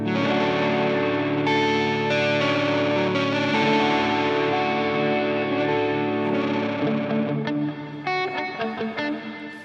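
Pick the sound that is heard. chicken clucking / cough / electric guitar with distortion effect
electric guitar with distortion effect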